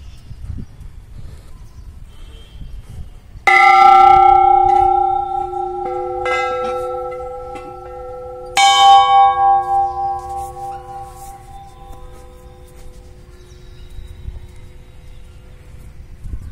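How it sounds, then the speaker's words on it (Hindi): A metal temple bell at the Baba Gabbi Sahib temple in Narwana, struck twice a few seconds apart, each loud clang ringing out with a long, pure, slowly fading hum. "चलो घंटा बजा लेते हैं।"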